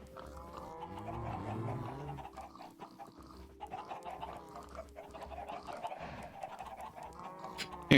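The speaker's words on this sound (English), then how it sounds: "Many a pig and cow as well" Minecraft farm animals, chickens, pigs and cows, make overlapping clucks, squeals, grunts and low moos in a steady, busy jumble of calls.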